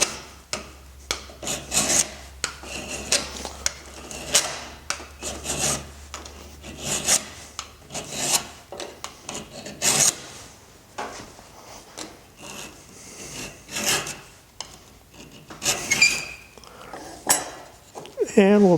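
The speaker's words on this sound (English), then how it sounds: "we're now going to file that burr away by putting the file about 20 degrees in a slope towards that direction" A metal file is drawn along a cabinet scraper clamped in a vise to remove the burr, making repeated close rasping strokes with occasional light metallic clinks, in a steady back-and-forth rhythm.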